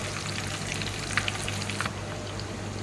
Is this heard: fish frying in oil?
yes